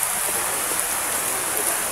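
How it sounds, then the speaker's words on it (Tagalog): Heavy rain pours in a steady, dense hiss that fills the space without a break, close and constant, with no voices over it. "Grabe yung ulan mga idol"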